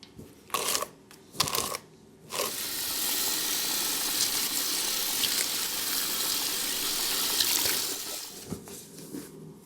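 Water runs steadily at a salon shampoo bowl as hair is washed, a broad even hiss lasting several seconds after a few short splashes and knocks, then tapering off near the end.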